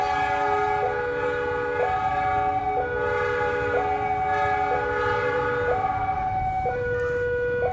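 A freight train carrying new KRL electric train cars rolls past, with a steady two-tone horn or warning tone repeating about once a second over continuous rumbling rail noise, loud and close throughout.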